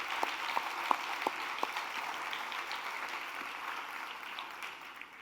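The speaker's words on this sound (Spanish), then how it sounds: "Así que vamos a darle un fuerte aplauso al Señor." Applause from a church congregation, a steady wash of clapping with a few sharper claps standing out early on, moderately loud and continuing evenly to the end.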